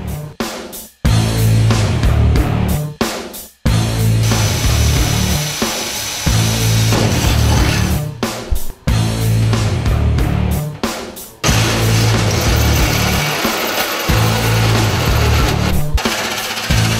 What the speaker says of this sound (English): Now that we have our hole drilled out here